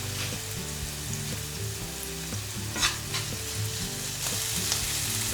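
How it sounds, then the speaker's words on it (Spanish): Chopped onion fries and sizzles in a pan with a steady hiss, broken by a few stirring scrapes and clatters, close and fairly loud. "antes de que se empiece a dorar le ponemos la cebolla"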